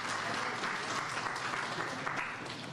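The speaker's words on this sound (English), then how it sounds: "So another big round of applause for all of the students that spoke today." Sustained audience applause at an indoor community event, steady dense clapping for the student speakers throughout, fairly close and even in level.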